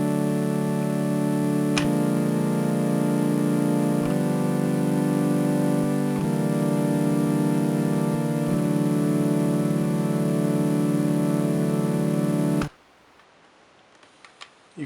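Washing-machine patch from a wavetable synthesizer on a Nintendo DS, a steady buzzy harmonic drone whose pitch shifts in small steps every couple of seconds, loud and alone, then cut off abruptly near the end.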